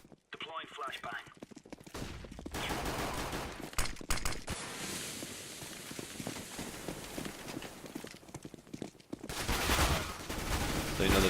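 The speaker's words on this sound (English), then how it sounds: "I am throwing a flashbang." Gunfire bursts and a flashbang in a tactical shooter match, sharp cracks and rapid volleys over game noise, with a voice talking through much of it.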